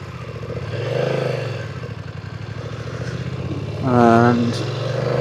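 BMW F900XR twin-cylinder motorcycle engine heard while riding, a steady low throaty drone with wind rush and a brief rise in revs near the end, under a rider's talking throughout.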